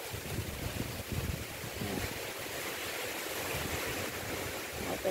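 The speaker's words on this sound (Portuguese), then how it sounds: "E vento, vento, vento." Wind blows outdoors in a steady, moderately loud rush, with soft gusts buffeting the microphone now and then, and no one speaks.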